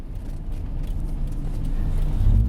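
Mazda Miata taking a quick lap of a parking lot, heard from inside as a low engine and road rumble that swells louder toward the end as it accelerates.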